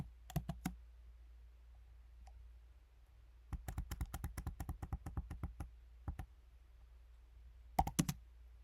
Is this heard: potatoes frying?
no